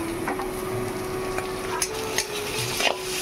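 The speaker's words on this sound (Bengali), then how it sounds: "চিকেনটা একদম ফ্রাই মতো করে নেবো।" Chicken frying in a pan with ginger for a Maggi noodle dish, a soft steady sizzle with a faint hum, broken by a few light clinks and scrapes of a spoon against the pan.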